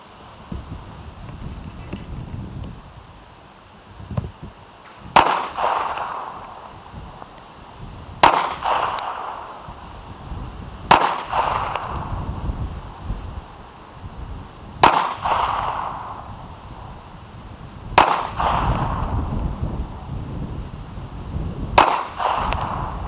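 A Remington R51 pistol fires outdoors in wind: six sharp, loud single shots spaced a few seconds apart, each ringing out over a low background rumble.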